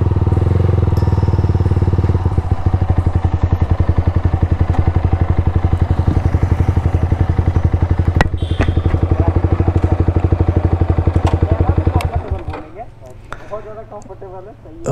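A Yamaha R1 motorcycle with an Akrapovic full exhaust system throbs loudly nearby with a fast, rhythmic, pulsing exhaust note. The engine then cuts off, leaving quieter background sound and some talking.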